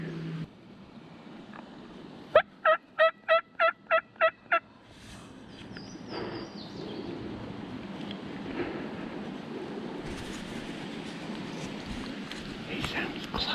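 A wild turkey gobbles seven times in quick succession from across a creek, loud and fairly close, standing out above steady outdoor background noise.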